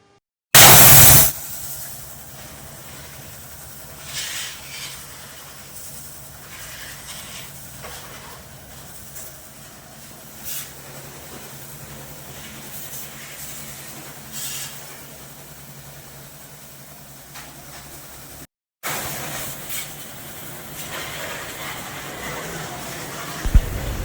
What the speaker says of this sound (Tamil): கழட்டிட்டு இப்போ வாட்டர் வாஷ் பண்ணுறாங்க பாருங்கள்